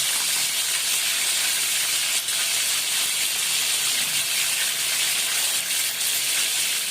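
Liver dropped into hot ghee for an Alexandrian-style dish sizzles with a steady, loud, broadband hiss like steam, continuous and close throughout, with no talking.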